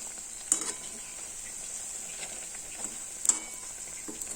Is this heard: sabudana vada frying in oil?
yes